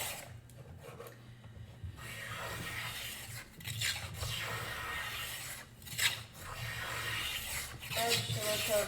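Rasping and scraping strokes trim down a wooden violin bow stick. The repeated rubbing passes are close and fairly quiet, with small pauses between them.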